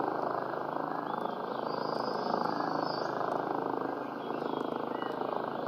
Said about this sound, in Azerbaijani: Drone var.